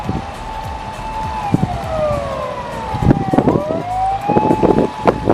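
A wailing ambulance siren near a hospital in Japan rises and falls steadily over outdoor background noise, with scattered knocks and rustles.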